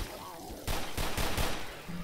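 Pistol shots in the co-op zombie shooter Left 4 Dead, a few sharp bangs about a quarter second apart, loud and close, with game noise behind and a brief voice near the end.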